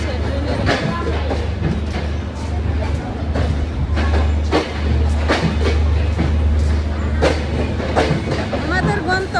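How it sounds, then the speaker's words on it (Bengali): A passenger train running on rails, steady loud rumble with rhythmic clickety-clack of wheels over rail joints throughout, with a person talking over it. "ঝক ঝক ঝক ট্রেন চলেছে"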